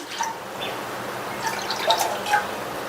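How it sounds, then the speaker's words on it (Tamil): Water trickles and drips into a cooking pan, two cups poured, with small splashy droplet sounds scattered through a steady faint wash. "இந்த பேன்ல 2 கப் தண்ணி சேர்க்கிறேன்."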